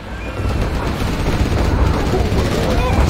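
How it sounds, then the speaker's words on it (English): An artillery barrage in C&C Generals Zero Hour on the China campaign rumbles as a dense, continuous series of low thuds and gunfire, loud and steady throughout. "Need a powerful barrage."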